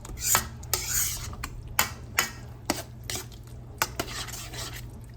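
A utensil scrapes and clinks against a pot as homemade sauce is stirred into a cheeseburger casserole, with a series of sharp metallic taps and rasps over a low steady hum, close by and without talk.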